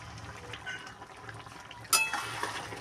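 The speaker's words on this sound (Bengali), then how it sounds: "দেখো মাছটা কিন্তু ফুটে এসেছে" Prawn heads simmer in a pot at a rolling boil, a low steady bubbling and watery churn, with a sudden louder splash or clatter of metal near the end.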